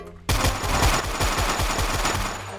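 Dual guns in a Minecraft 1.20.12 Marvel superhero add-on fire in a fast, steady volley of punchy shots, close and loud, running continuously for about two seconds after a short quiet start.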